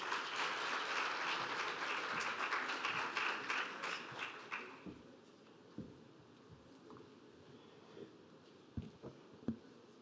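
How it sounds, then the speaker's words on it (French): Warm applause from a conference audience at a side event on women's access to finance, dense and loud at first, then thinning into a few scattered claps that fade out. "Merci d'applaudir chaleureusement M. Papa Amadou Sarr, directeur exécutif de l'Agence française de développement."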